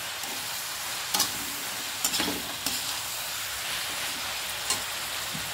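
Tomato ketchup is stirred into a frying mixture for leftover-roti noodles, a steady close sizzle broken by several sharp scrapes and clinks of a spoon against the pan at irregular intervals.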